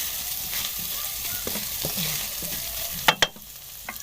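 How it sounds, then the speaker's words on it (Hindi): Garlic roasts in a pan with a steady, close sizzle and light stirring, then two sharp metallic clinks near the end as a utensil knocks the pan. "इसकी हमने थोड़ी सी भुनाई कर लेनी है ताकि लहसुन का कच्चापन जो है वो ख़त्म हो जाए"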